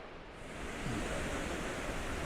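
Water pours down Multnomah Falls in Oregon, a steady broadband rushing roar that swells slightly after the first second and continues evenly, heard from a moderate distance without voices.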